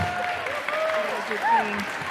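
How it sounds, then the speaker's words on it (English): An audience applauds at a live slime-making demonstration, a brief steady patter of clapping with a voice talking over it. "Let's give her a big round of applause."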